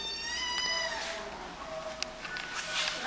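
Cats meowing at a county animal shelter adoption area, several plaintive, overlapping meows in short bursts over a steady room background, fairly close.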